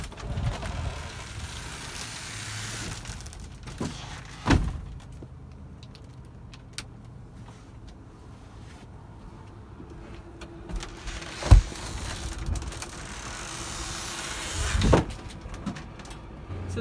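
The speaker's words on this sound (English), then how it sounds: "Once the 6 latches are undone on the outside, all you need to do is push the roof up to open it" A Four Wheel Campers Hawk pop-top camper on a RAM 3500 with a Norweld tray has its roof unlatched and pushed up, giving a few scattered clunks and mechanical knocks over a quiet background, with no talking.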